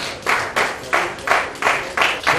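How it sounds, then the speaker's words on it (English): Audience at a Freedom of Religion conference applauds an award winner with steady, rhythmic clapping that swells in regular bursts, fairly close and filling the room. "A round of applause for him."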